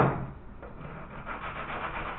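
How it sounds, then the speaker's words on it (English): Sandpaper is rubbed steadily against a guitar part to remove material, a continuous close rasping scrape with no voices. "So I'm just taking some of the material off by sanding it."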